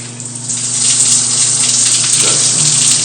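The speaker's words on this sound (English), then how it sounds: "So check out the shower head, see how that works." Hotel stand-up shower head spraying a steady, loud hiss of water throughout, with no talk over it.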